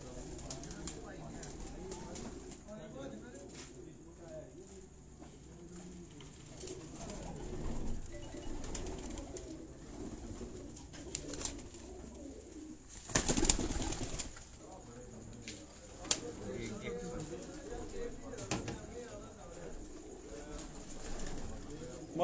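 Pigeons at a fancier's loft coo softly and keep up a low murmuring, with a brief burst of wing flapping partway through, while people talk quietly nearby.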